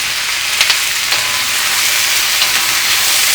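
Frozen ají amarillo peppers fry loudly in a pan for Peruvian-style fried fish, giving a dense, close sizzle with a few quick clatters as the pan is tossed.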